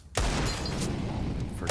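A Desert Eagle fires in a Counter-Strike match on the Anubis map: a sudden loud, close report kicks in, followed by a dense, sustained noisy wash for the rest of the moment.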